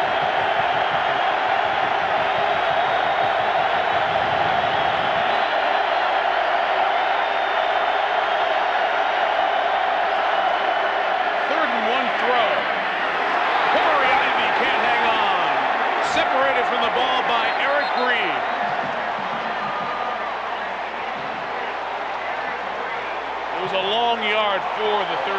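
Stadium crowd roaring at a Virginia Tech college football game, a broad, sustained wall of cheering and clapping that swells midway and eases slightly near the end, with a commentator's voice running over it.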